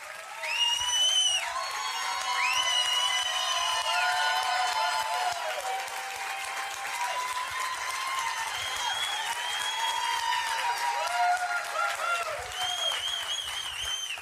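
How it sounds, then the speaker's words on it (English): Steady applause and clapping from a large room audience, continuous and dense for the whole stretch, with cheering and high whoops rising over the clapping throughout. "All the claps and applause."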